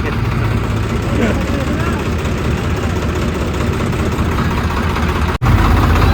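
A tractor engine runs steadily on a village field track during road repair work, a loud continuous low rumble with no pauses, cut off by a brief dropout near the end before resuming.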